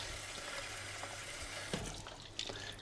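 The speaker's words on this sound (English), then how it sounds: "Just a bit more water, let that cool down a little bit." Water runs steadily from a tap into an ice bath in a kitchen, a constant rushing splash with a couple of small clunks near the end.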